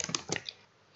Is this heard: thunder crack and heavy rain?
no